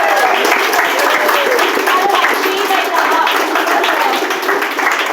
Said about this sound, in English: So let us cheer and wish them well in this,